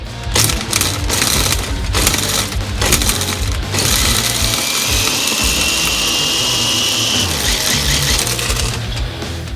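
A Ryobi battery-powered angle grinder whirs and grinds while crushing quartz, with rough scraping bursts and a strained, uneven motor tone throughout.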